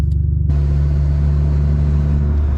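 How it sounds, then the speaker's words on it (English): A turbocharged D16Y8 Honda Civic with an open downpipe drives at light throttle. It gives a loud, close, steady low engine drone with a throbbing pulse at the start. "And for open downpipe, I mean, does not sound like a Civic at all."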